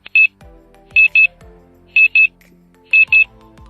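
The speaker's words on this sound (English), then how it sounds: "The alarm clock screamed at me." An electronic alarm clock beeps in repeated pairs of shrill tones, evenly spaced, each pair followed by a short pause, loud and close.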